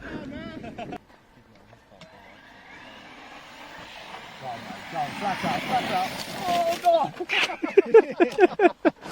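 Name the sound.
radio-controlled model aircraft engine throttling up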